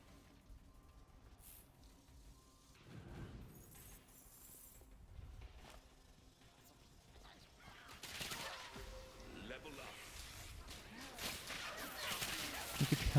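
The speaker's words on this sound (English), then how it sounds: "Look at how much AoE those egg bombs do from the Spectral Spider skill" Explosive bursts from egg bombs cast by the Spectral Spider skill in Torchlight 3 pop and crackle amid busy combat noise, starting faint and swelling into dense, loud overlapping blasts over the final seconds.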